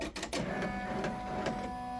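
A home embroidery machine begins stitching a design on a hooped towel, giving a steady, close mechanical whir with fine rhythmic chatter throughout, heard alone without talk.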